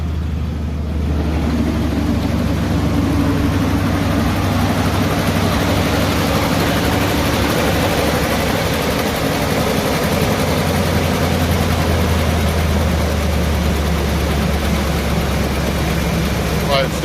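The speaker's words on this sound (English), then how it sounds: "you can hear the engine does run quite well when it's cold" A 2005 Ford F250 Lariat pickup engine idles cold and steadily up close, a loud, even low rumble that holds without change from start to finish.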